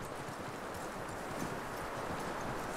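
In the Red Dead Redemption 2 video game, horse hooves clip-clop steadily at a walking pace, faint and continuous against a dense background.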